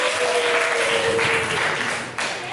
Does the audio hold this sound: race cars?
no